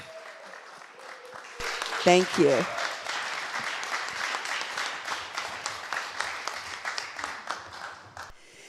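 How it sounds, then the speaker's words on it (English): A church congregation breaks into a round of applause for its board during a Sunday service, the clapping swelling after a brief spoken thank-you and carrying on steadily to the end. "Can I have a round of applause for our board?"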